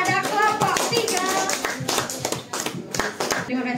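Lively clapping from an audience of teachers at a school workshop in Tabanan, steady and close for a few seconds, with some voices mixed in.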